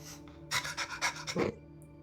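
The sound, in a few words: person imitating a small dog barking, like a Pomeranian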